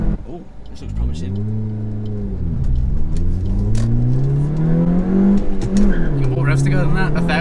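A 2019 Suzuki Swift Sport hot hatch revs hard through the gears, its engine note climbing in pitch, dropping and rising again, loud from inside the cabin while occupants talk over it.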